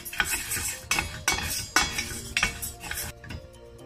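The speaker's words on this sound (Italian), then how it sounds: "un filo d'olio nella casseruola, riso, e facciamo tostare bene." Rice toasting in a drizzle of oil in a saucepan, stirred with a utensil: scraping and clinking strokes over a soft sizzle, close and moderately quiet, with no talking.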